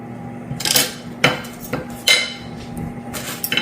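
Jerk BBQ meatballs stirred in a metal pan, giving a few sharp clinks and scrapes of a utensil against the pan, spaced irregularly over a low steady hum, with no talking.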